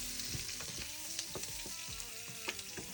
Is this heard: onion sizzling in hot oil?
yes